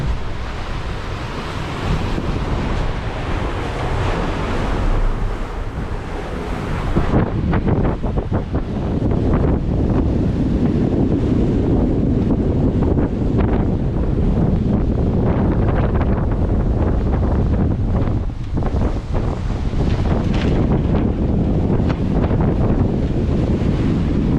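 Confused ocean waves and strong wind surround a sailboat at sea on a passage from Brazil to the Caribbean, a loud continuous rush of surf and buffeting wind noise with no talking.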